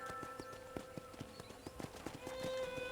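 Horse hooves clip-clop in a steady rhythm as a rider travels at an easy pace across a ranch in Red Dead Redemption, with game music tones ringing underneath.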